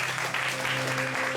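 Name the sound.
congregation clapping in praise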